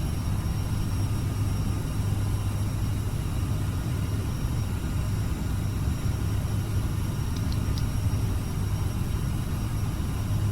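A CRJ 700 airliner climbs after takeoff from Memphis in Microsoft Flight Simulator, its jet engines a steady, unbroken low drone with a faint whine on top and no speech.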